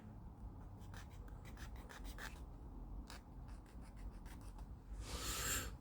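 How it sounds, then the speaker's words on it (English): A plastic part of an Airfix North American Mitchell Mk.II model aircraft kit is sanded by hand, with quiet, close, rhythmic scratchy strokes and a slightly louder rub at the end. "just give this a bit of a sanding down a minute"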